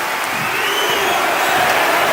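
Arena crowd in the wrestling video game WWE 2K25 during a Roman Reigns versus Rhea Ripley match: a steady, loud wash of cheering and roaring with no break across the short clip.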